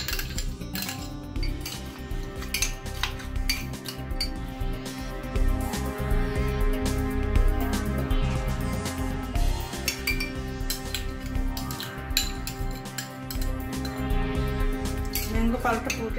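A spoon stirs mango pulp into a virgin mango mojito in a glass, giving light clinks and taps against the glass throughout under steady background music.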